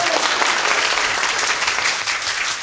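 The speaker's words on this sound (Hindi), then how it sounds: "जोर से ताली बजाएं यीशु के लिए" A church congregation claps loudly for Jesus, a dense, steady wall of applause that fills the whole short stretch without letting up.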